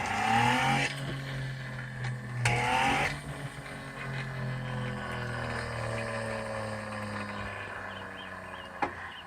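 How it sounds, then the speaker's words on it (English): An old Baltic cream separator's centrifuge spins up by crank handle, a steady rising mechanical whine with layered tones and occasional clunks, close and continuous. "I could set that centrifuge on there, and I could spin it as fast as I want"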